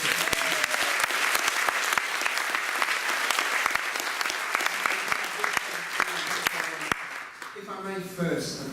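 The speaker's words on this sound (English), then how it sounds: "a big round of applause" An audience at a public talk applauds with steady crowd clapping, a few sharp nearby claps standing out, before a voice begins speaking near the end.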